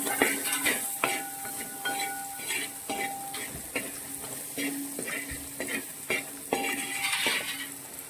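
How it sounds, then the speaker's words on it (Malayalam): A fish pickle mixture with salt sautéing in a pan, soft continuous sizzle under repeated scraping and clinking of a metal spoon against the pan, close and fairly quiet. "ഇതിലേക്ക് നമുക്ക് ആവശ്യത്തിനുള്ള ഉപ്പ് ചേർത്ത് നന്നായിട്ട് വഴറ്റിയെടുക്കുക"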